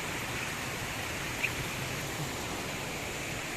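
Clear spring water spills from its source into a stream below, a steady, soft, even rush of flowing water with no voices.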